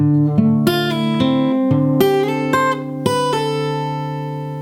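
An acoustic guitar plays two joined phrases from a song, a string of clear plucked notes over ringing open strings, close and alone, the final chord left to fade.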